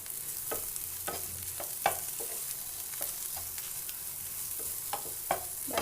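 Pointed gourd mixture stirred in a pan for a village-style potol bhaji with egg: repeated scraping strokes of a spatula roughly every half second over a steady low sizzle, close and moderately loud, with no voices.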